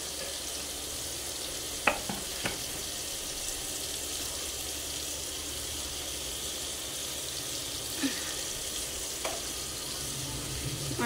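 Onions and green chilies fry in a pan with a soft, steady sizzle, broken by a few sharp clicks from stirring; no one talks.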